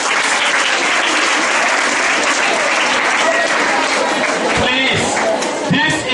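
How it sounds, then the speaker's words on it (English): A school audience at a college cancer outreach event in Buea bursts into loud, sustained applause for a schoolgirl, dense clapping with a few cheers and voices mixed in throughout. "Can we give her the best clap?"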